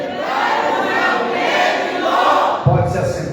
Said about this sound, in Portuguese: para a gente dar um brado para o inferno estremecer